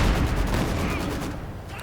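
Maxim machine gun fire in the Company of Heroes 2 video game, a dense, continuous burst of rapid gunfire and battle noise that fades slightly toward the end.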